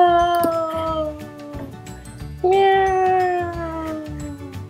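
Cat meows from the Minecraft video game, two long drawn-out wailing calls, loud and close, the second starting midway with a sudden onset, over a soft rhythmic background of game sound.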